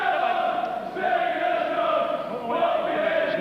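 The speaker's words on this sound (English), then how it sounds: "Crowd trying to lift him." A boxing crowd at a televised 2002 UK fight roars steadily, a loud sustained cheer swelling and dipping slightly as it urges a fighter on.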